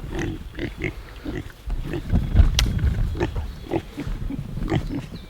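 Pigs on a small farm grunt and snort in low, rumbling bursts close by, an uneven stream of deep grunts lasting throughout with no talking.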